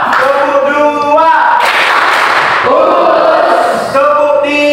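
A group claps out a set rhythm pattern during an ice-breaking clapping game, with a dense burst of hand claps between stretches of loud group chanting and voices.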